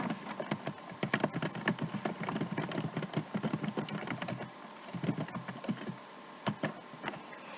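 Typing on a computer keyboard: a quiet, close run of irregular key clicks with brief pauses, over a faint low background hum, no talking.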